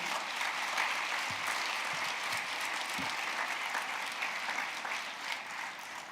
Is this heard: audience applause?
yes